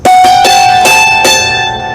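A hammered dulcimer sounds five bright struck notes at a steady pace, each ringing with shimmering overtones that sustain and blend together, played close and clear without talk.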